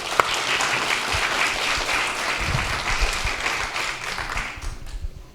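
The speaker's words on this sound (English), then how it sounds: "How about another round of applause for all the table presentations?" Audience at a public safety forum gives a round of applause after table presentations, sustained clapping from a crowd that holds steady and then tapers off near the end.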